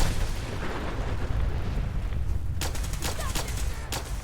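Gunfire in Fallout 4, rumbling explosive combat noise followed by a quick run of sharp, loud gunshots near the end, with a voice briefly mixed in.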